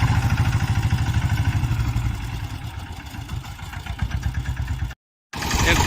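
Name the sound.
VST power tiller engine running in third gear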